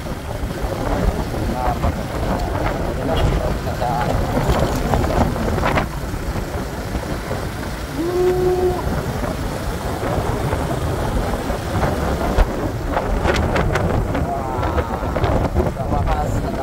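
Strong wind buffeting a microphone at the Panguil Bay Bridge, a loud continuous roar with gusty rumble throughout and faint background sounds.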